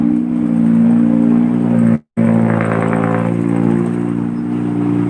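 A loud modified motorcycle engine revs hard and steadily, its throaty roar cutting out abruptly for a split second before resuming at full volume.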